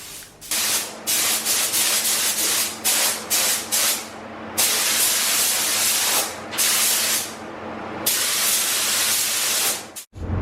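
A spray gun coats a car with epoxy primer in loud hissing bursts, some short and clipped, others sustained for a second or more, separated by brief pauses.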